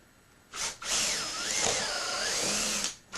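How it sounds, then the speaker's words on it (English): A power drill bores holes through plywood, whining up to speed and holding a steady high-pitched spin with shifting pitch for about two and a half seconds before winding down. "That way I can drill the holes"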